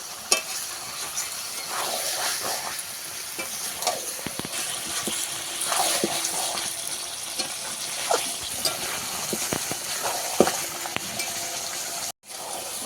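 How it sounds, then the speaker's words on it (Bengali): Chicken pieces sautéed in oil in a pan until the oil separates, with steady sizzling under repeated scraping stirs of a spatula, close and continuous with a brief dropout near the end. "যতক্ষণ না তেল ছাড়ে ততক্ষণ আমি মাংসটা কষাতে থাকবো"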